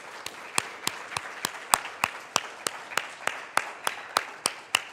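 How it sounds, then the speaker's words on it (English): Sparse applause at an awards ceremony, a thin, evenly spaced run of single claps in a quiet room, as if only a few hands are clapping at a steady rhythm. "I think we can still give her a round of applause."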